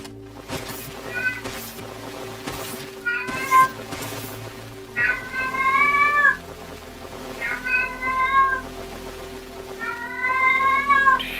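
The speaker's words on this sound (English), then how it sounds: "My cat." A pet cat meows repeatedly and loudly, long drawn-out wailing calls in separate bursts with pauses between, close to the microphone over a faint steady background hum.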